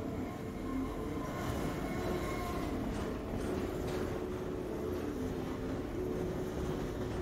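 A continuous low rumble of a train rolling past overhead in Half-Life 2, steady and fairly loud, with faint metallic rattling and no voices.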